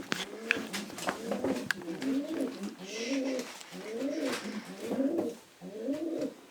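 Racing pigeons of Janssen lineage cooing in a loft, a repeated rolling coo pattern close by, joined by soft flutters and clicks, with someone talking quietly in the background.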